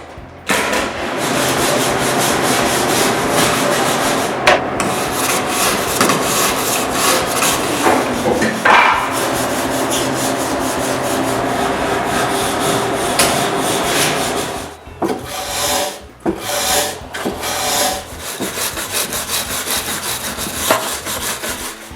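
A steel wire brush scrubs wooden beams during workshop construction, a loud, continuous scratchy rasping in steady strokes that runs for about fifteen seconds, then breaks into shorter, choppier bursts with brief pauses.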